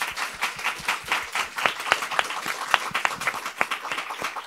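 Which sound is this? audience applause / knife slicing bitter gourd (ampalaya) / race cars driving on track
audience applause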